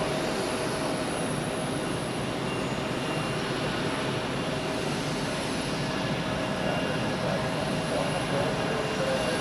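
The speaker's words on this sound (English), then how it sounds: "we also have Delta Airlines, which will enter the screen any second from the right off to New York JFK" Delta Air Lines Airbus jet departing Zurich Airport for New York JFK, a steady broadband engine roar holding at constant loudness throughout with no break.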